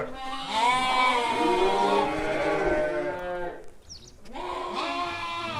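Hissar sheep brought from Tajikistan bleat at a livestock market, with one long drawn-out bleat, a short lull, then another bleat starting, loud and near.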